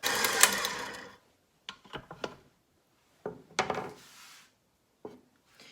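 Stand mixer kneading dinner roll dough in a bowl: a busy whirring burst at the start, then the machine stops and short knocks and scrapes follow at intervals, close by in a quiet kitchen.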